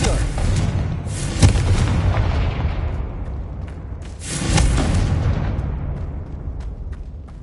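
Confringo blasting spell exploding in Hogwarts Legacy on PS5, two loud booming blasts about three seconds apart over a dense rumbling game soundscape, with voices speaking around them.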